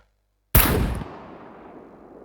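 A single sniper rifle shot fired at a turret in the game SCUM, a sudden loud crack after brief silence, followed by a long decaying echo tail.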